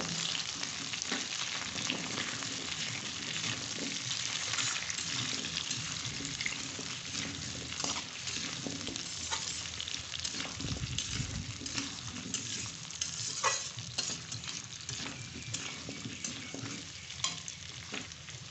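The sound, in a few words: arum pieces frying in oil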